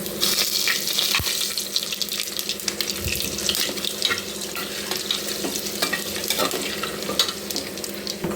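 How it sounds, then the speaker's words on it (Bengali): Bay leaf, cumin, dried chilli and whole spices crackle and sizzle in hot oil in a pan, with bright spattering pops and a sharp clink near the start. The frying runs continuously and close, with nobody speaking. "এখন আমি এইগুলো দিয়ে দেব তেজপাতা, জিরা, শুকনো লঙ্কা, গরম মশলার ছাল"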